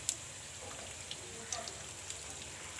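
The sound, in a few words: samosa frying in hot oil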